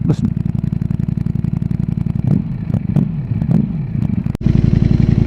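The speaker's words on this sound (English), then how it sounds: "That lovely little burbly, poppy, bang, backfire thing." A 2020 Ducati Streetfighter V4S idling loud and close, its engine throbbing in a steady burble broken by a few sharp pops and bangs from the exhaust before settling back to a rough idle.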